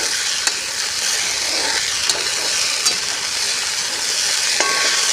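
Okra and onions fry in a pan with a continuous close sizzle and crackle, steady in level, with a few faint clicks of utensils scattered through.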